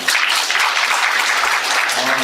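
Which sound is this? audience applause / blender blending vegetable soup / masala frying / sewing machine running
audience applause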